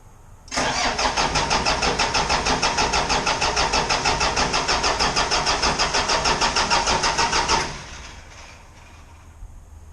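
A Spryte car's motor cranks over and starts up close by, with a loud rapid pulsing churn for about seven seconds before it cuts off and leaves a low quiet hum.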